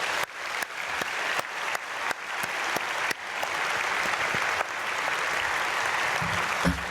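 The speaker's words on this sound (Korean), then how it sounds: "우리 아이들에게 크게 박수해 주시면 감사하겠습니다." Church congregation at Myungsung Church applauds children after a summer Bible school during an early-morning prayer service, with steady, full clapping filling the hall throughout, a few sharper claps standing out near the start.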